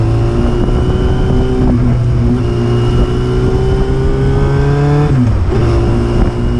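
A Yamaha Fazer 600 cafe racer motorcycle accelerating, loud and close, its engine note climbing steadily through the gears with a clear drop at each shift.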